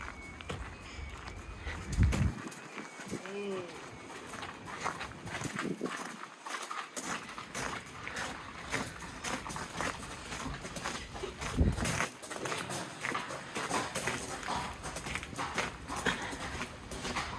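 A mare's hooves thud and clop irregularly as she walks outdoors at an equine yard, with occasional louder knocks, faint voices and light background noise throughout.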